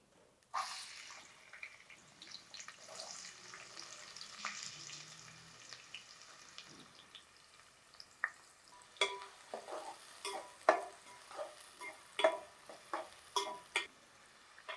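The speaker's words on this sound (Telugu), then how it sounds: "ఆయిల్ వేసుకున్నాక ఉల్లిపాయలు చక్క చిన్న ముక్కలు తరుక్కొని ఉల్లిపాయలు వేసుకోవాలి" Finely chopped onions fry in oil in a pan, a quiet sizzle that builds into clusters of sharper crackles and stirring clicks toward the end.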